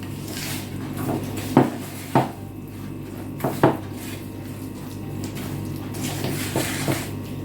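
Sporadic clinks and scrapes of a utensil against a bowl, stirring a strawberry jelly cake mixture, a few sharp knocks over a steady low hum, no talking.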